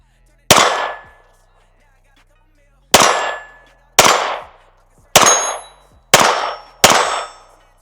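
9mm pistol shots ringing off steel targets at a range: six sharp, loud cracks with bright metallic clangs, the first alone, then a pause, then five in fairly quick succession.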